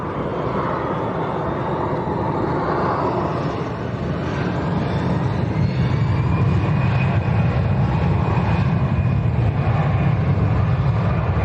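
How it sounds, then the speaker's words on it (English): A Binter Airlines airliner at windy Lanzarote Airport gives off a loud, steady engine roar with a faint rising whine, mixed with wind noise and heard from a moderate distance. "We've also got a Binter Airlines powering back at the moment, that'll be coming straight out."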